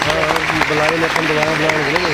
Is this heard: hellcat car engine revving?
no